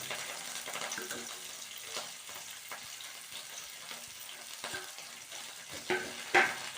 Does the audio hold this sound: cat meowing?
no